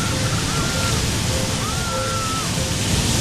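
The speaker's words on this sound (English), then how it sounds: "The wave could swallow you." Big waves crash and churn as a dense, constant roar of surging water filling the whole clip, with faint whistling tones sliding above the wash.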